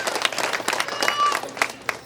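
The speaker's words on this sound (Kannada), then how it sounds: "ಎಲ್ಲರೂ ಚಪ್ಪಾಳೆ ಮುಖಾಂತರ ಸ್ವಾಗತ ಹೊಸೋಣ." An audience at a village anniversary function claps to welcome a guest, a moderate, somewhat scattered applause with individual claps standing out, and a faint voice briefly heard behind it.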